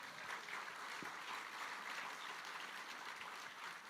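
Studio audience applauding for guests on stage at a live radio show anniversary event, a steady dense wash of clapping at moderate level throughout.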